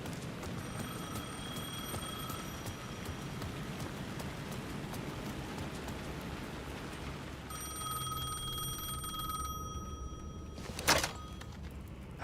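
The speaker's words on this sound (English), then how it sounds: "The phone was ringing again." A telephone rings in the video game Alan Wake 2, its repeating electronic trill sounding in bursts over a steady rain-like ambient hiss, with a sharp click near the end.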